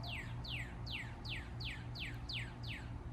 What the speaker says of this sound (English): we have the birds singing to us this morning